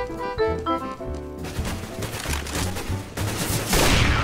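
Rapid bursts of CS:GO gunfire rattle loud and close after a short musical intro, with dense automatic volleys continuing to the end and no talking.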